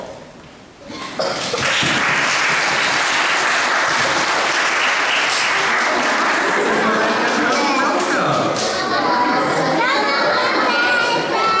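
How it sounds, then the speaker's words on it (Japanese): Loud sustained applause from an audience at a children's English-school presentation, welcoming a girl playing Mrs. Trump in a skit, with children's voices and chatter mixed into the clapping throughout. "トランプ夫人を拍手でお呼びしましょう"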